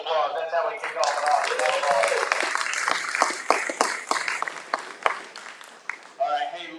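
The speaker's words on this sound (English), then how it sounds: "Hey, big round of applause." A crowd at a live charity auction claps, the applause rising under an auctioneer's amplified voice and then thinning into scattered, separate claps as the talking continues.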